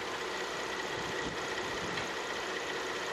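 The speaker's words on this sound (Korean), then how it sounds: "바로 이제 엔진 소리 한번 들려드릴게요." A 2020 Genesis GV80 with about 40,000 km idles steadily and quietly, giving a smooth, even engine hum with no speech over it.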